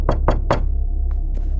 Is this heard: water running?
no